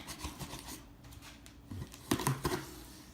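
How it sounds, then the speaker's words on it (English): Scissors cut open a HungryRoot cardboard delivery box, making close, crisp snips and scraping rubs in uneven bursts, louder toward the end. "We're gonna cut the box open"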